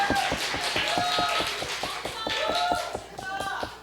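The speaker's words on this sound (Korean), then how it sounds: "그래서 우리 박수로 한번 환영해 주시면 감사하겠습니다" A church congregation at a Sunday worship service claps to welcome newcomers, a brisk run of distinct hand claps from a modest group, close by, with a faint voice and room murmur underneath.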